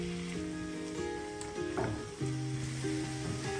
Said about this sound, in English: To the courgette, I'm adding my finely chopped onion, and I just need both of those to cook off together